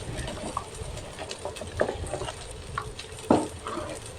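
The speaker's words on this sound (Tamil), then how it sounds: "இதை அப்பப்போ கொஞ்சம் கிளறி விட்டுக்கணும்" Spoon scraping and stirring through boiling mushroom gravy in a pot, with soft bubbling, clinks and a few sharper knocks against the pan, steady and close throughout.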